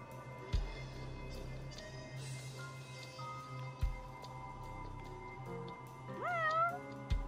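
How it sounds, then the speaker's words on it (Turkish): A cat meows several times in the video game Judgment, short distinct calls spread across the clip with a drawn-out, rising mew near the end, heard alone over quiet background tones. "Bak birer kedi var anası."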